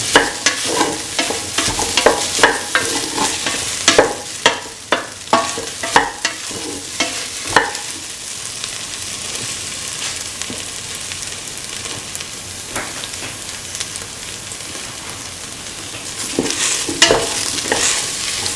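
Egg and soya chunk stew with carrot and coconut milk is stirred and sautéed in a pan. A spatula scrapes and clatters in bursts over a soft, constant sizzle, goes quieter in the middle, then picks up again.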